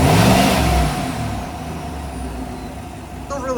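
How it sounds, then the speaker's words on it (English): Chevy Silverado with a 5.3 engine and a K&N cold air intake, revved once near the start, the roar swelling then settling back toward a steady idle hum, with a slight pickup at the very end. "I'm gonna just give you a couple of revs."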